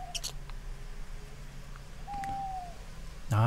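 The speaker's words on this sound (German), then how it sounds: "Na, habe ich dann Uhu gehört." An eagle owl in the game Summer in Mara gives a single faint, drawn-out hoot partway through, with a brief call near the start and soft ambient background around it.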